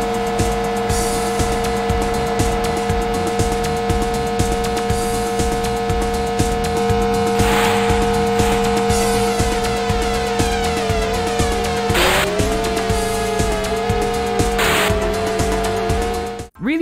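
Car engine drones and tire squeals from a Japan-only PS1 racing video game, a steady synthetic motor hum with pitch shifts for turns, layered over continuous game music throughout.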